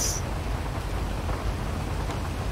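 Rain falls in the video game GTA V, a steady hiss of broadband noise that fills the whole clip at an even, fairly loud level with no talk over it.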